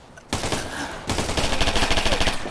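Automatic gunfire in the military shooter Operation Flashpoint: Red River: a loud crack opens, then rapid, evenly spaced bursts rattle on close and heavy through the rest of the moment.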